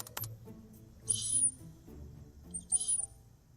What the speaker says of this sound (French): J'ai ici l'enregistrement d'une souris mâle qui appelle une femelle.